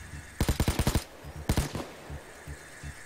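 Video game gunfire: two rapid bursts of automatic fire, the first longer with about seven shots, the second shorter, then scattered single shots, all loud and close.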